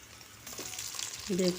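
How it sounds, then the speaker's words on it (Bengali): Potatoes for a hilsa fish curry frying in a pan, a brief close sizzle that swells toward the end, where a short tonal scrape or clink rings out. "প্রথমে আলুগুলো একটু ভেজে নিচ্ছি"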